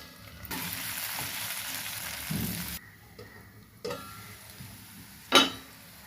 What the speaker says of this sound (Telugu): ఉల్లిపాయ బంగాళాదుంప బాగా వేగిందండి.